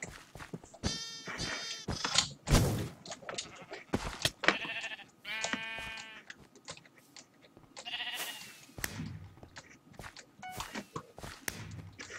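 Sheep in a Minecraft mini-game bleat repeatedly in short, close, loud calls, mixed with footsteps and thunks, while voices talk intermittently.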